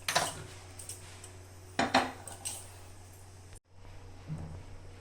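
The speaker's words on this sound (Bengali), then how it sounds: "পনিরটা বানানোর জন্য কড়াই বসিয়ে দেব" A metal wok is set down on a stove for cooking paneer masala, giving a couple of sharp clanks and scrapes of metal on metal up close, followed by quieter handling knocks and a low hum.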